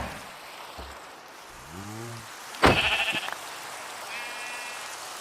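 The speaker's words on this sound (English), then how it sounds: "Just freed the sheep, Jack." Sheep in the Minecraft video game bleat in a short series of wavering calls, followed by a sharp burst of rustling clicks and a faint high chime, with no talking.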